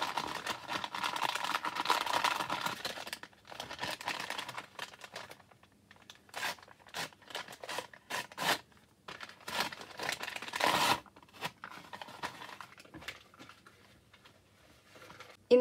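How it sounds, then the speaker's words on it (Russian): A paper surprise packet with a pineapple design being opened, with bursts of crisp paper crinkling and sharp tearing, close up and intermittent with short quiet gaps. "открываем с вами такой пакетик с ананасиком"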